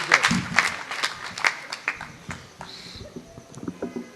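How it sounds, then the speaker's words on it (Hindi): Audience applause at a Hindi kavi sammelan poetry event, a scattered patter of clapping hands with uneven bursts and some crowd noise, fairly quiet and fading toward the end. "ऐसी जोश भरी आवाज के लिए जोरदार तालियां आपकी उठ जाएं"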